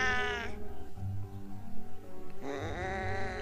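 A strange, drawn-out cat meow used as a horror-story sound effect: one wavering cry at the start, a quieter stretch, then a second rising, strained meow near the end, heard close and clear.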